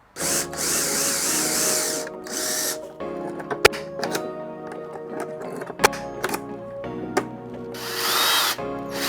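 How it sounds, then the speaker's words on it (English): A power drill whirs in repeated bursts, starting and stopping, with sharp clicks and knocks between runs as holes are bored through a metal guide during an electric skateboard heatsink install, close and fairly loud. "I'm just gonna have to drill them and hope for the best"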